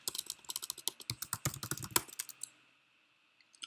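Quick bursts of keystrokes on a computer keyboard while someone types a chatbot message, close and crisp, a rapid irregular run of clicks for about two and a half seconds, then quiet except for a couple of faint taps.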